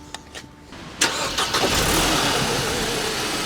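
A car engine cranks with a brief whir from a working starter motor, then catches and settles into a steady, loud idle close by.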